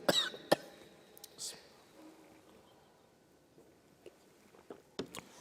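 A few short coughs and throat clearing, close and fairly faint, with quiet pauses between and a couple more near the end.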